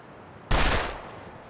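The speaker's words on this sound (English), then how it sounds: "we have to shoot fast" A single loud gunshot in the survival video game The Long Dark, sharp and close, cracking suddenly out of quiet and then decaying into a lingering echo.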